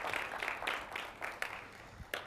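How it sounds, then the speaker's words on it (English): Applause from a small crowd at a university Black History Month forum, a steady patter of clapping with a few sharper claps standing out, moderately loud and continuous throughout. "give that a round of applause"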